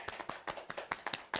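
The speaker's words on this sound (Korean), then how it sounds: "박수 한번 주세요" Hands clap quietly in a quick, slightly uneven rhythm during a neighborhood baking and cake workshop in Ansan, close but soft, with no talk.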